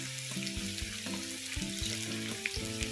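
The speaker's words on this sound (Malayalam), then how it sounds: "എണ്ണ ചൂടായി വരുമ്പോൾ സവാള ഒന്ന് പൊരിച്ചെടുക്കാം" Onions frying in hot sunflower oil, a steady bright sizzle with crackling pops running throughout, alongside low background tones, close and moderately loud.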